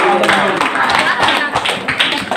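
An audience at a student organisation's leadership candidate vision presentation claps for a candidate, a brief dense patter of hands, close and fairly loud, with voices mixed in.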